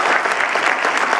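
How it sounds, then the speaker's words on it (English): Church congregation applauding during a Sunday service, a steady dense wash of clapping from many hands, loud and continuous throughout. "Dr. Kent Rautenstrauss, coming in for applause, Dr. Barry Ebert."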